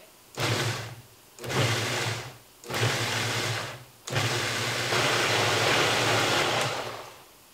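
A kitchen blender purees a jerk chicken marinade in several short loud bursts, then runs steadily for a few seconds, motor whirring close and alone with no talk.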